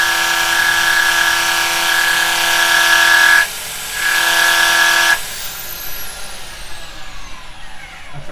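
A sander held against a spinning woodturning piece, a carbide-turned Easter cross, producing a high, steady whine that briefly drops out, resumes, then stops, leaving a softer fading hum.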